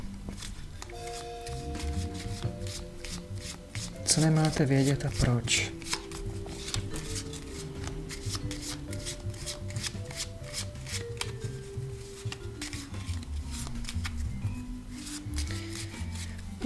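Tarot cards being shuffled by hand in repeated rapid riffles and slides, close and crisp, running under a person speaking Czech.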